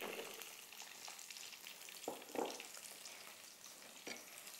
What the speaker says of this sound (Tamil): எல்லாம் போட்டு நல்லா வதக்கிடணும்.